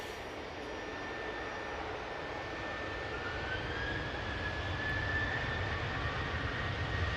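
A departing airliner at Manchester Airport gives off a steady jet-engine roar that swells slightly louder toward the end, heard from a distance with no voices.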